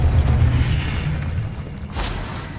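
The Confringo blasting spell detonates in Hogwarts Legacy, a deep, rumbling boom that opens loudly and decays, followed by a brighter burst near the end.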